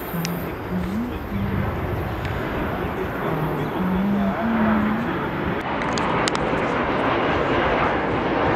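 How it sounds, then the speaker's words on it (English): A Southwest airplane passes overhead near Atherton during a Caltrain journey, its engine a broad, steady roar that swells slightly and stays loud and fairly near, with a faint tonal hum over it and no voices. "unknown southwest plane."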